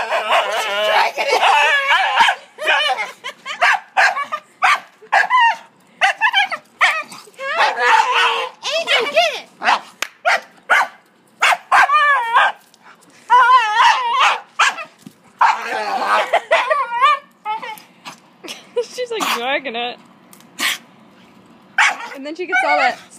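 A pet dog barks and whimpers in short bursts, mixed in among frequent close conversation from people nearby in a home setting.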